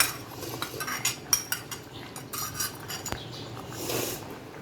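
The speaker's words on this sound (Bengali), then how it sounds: "দিয়ে এটাকে ভালোভাবে মিক্স করে নিচ্ছি" Spoon scraping and clinking against a cooking pot while a paste of garam masala, cardamom, cinnamon and cloves is mixed into a jackfruit and mixed-lentil curry, with soft irregular scrapes and light metallic taps, fairly quiet and without talk.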